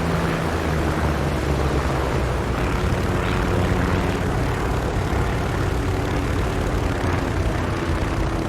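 About twelve dive bombers approaching from the northeast in a Battle of Santa Cruz video game scenario, a dense, steady propeller-engine roar that fills the whole stretch without pause.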